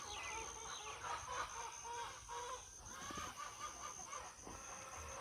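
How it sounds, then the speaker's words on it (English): Chickens cluck near a backyard garden bed during a potato harvest, with soft, repeated clucks rising and falling. The calls are moderately faint over a steady outdoor background hiss, and no one speaks. "I guess the chickens are saying they're ready."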